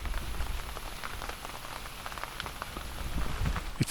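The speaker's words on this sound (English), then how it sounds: "It started to rain" Rain falling at night at a campsite in Japan, a dense steady patter of drops on surfaces with occasional closer, heavier taps, continuous and fairly soft, with no talking.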